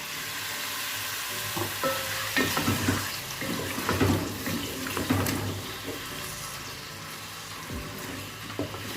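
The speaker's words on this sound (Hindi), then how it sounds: "अब हम इसी ऑयल में चिकन डाल देंगे" Chicken pieces frying in hot oil in a karahi pan for Afghani karahi, a steady close sizzle with intermittent stirring and scraping bursts running throughout, no talking.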